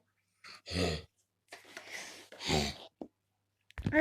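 A person imitates a lion's snore by breathing into a folded paper napkin, producing several rough, breathy rasps separated by short pauses, close and fairly soft.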